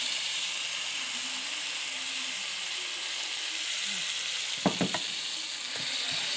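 Tomato puree fries in a pan with browned ingredients for fish roe fritters, a steady soft sizzle and hiss with a brief cluster of utensil taps near the end, no talking.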